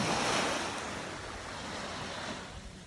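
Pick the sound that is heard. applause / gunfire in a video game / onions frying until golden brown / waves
waves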